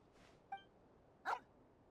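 A dog in the video game Genshin Impact gives two short barks, a small yip and then a louder bark, close by against a quiet background.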